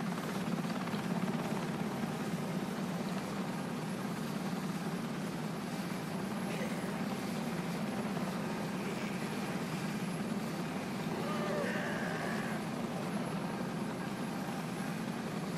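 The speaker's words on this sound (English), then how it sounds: "there's a chopper on its way" A video game helicopter's rotor chop thrums steadily throughout, loud and constant in the background, with occasional faint chatter over it.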